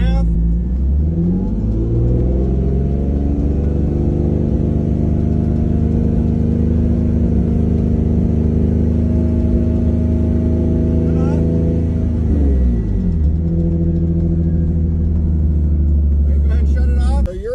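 Car engine fitted with a catback exhaust mod held at about 3,500 RPM, a loud steady roar that rises at the start, sustains, dips briefly and climbs again before cutting off at the end.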